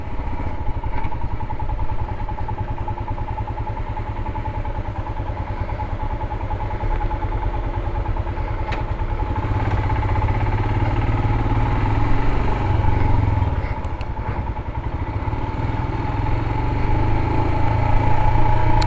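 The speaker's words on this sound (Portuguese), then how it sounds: "Esse motor ele tem um barulho característico." A Royal Enfield Himalayan motorcycle engine runs steadily close by with a deep, even thump and a light mechanical clatter, holding a constant idle-like rumble throughout, with no one speaking.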